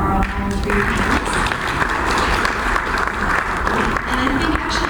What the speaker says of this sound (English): why don't we give a round of applause for all three panelists?